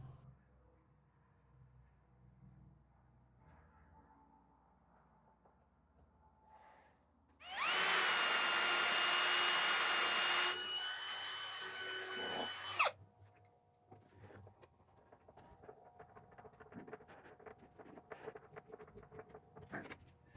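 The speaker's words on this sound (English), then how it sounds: "I decided to drill the pilot holes by hand" A handheld drill bores pilot holes during cigar box guitar assembly, one steady loud whirring burst lasting about five seconds, with quiet handling noises before and after.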